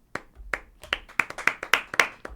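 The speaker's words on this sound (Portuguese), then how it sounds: "eu queria dar uma salva de palmas" A small group claps for a podcast guest in a studio, with distinct, uneven hand claps close to the microphone, sparse at first and then quicker and louder before trailing off.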